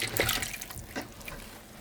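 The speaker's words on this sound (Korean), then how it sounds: "자, 소금물을 넣겠어요." Salt water is poured over cabbage for white kimchi, a short burst of splashing liquid that rises and falls in quick uneven gushes, close and fairly loud.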